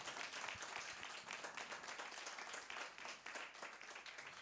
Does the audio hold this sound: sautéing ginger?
no